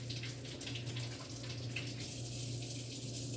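Cherry tomatoes rinsed under a running kitchen tap, with a steady, continuous stream of water splashing over them close by and no one speaking.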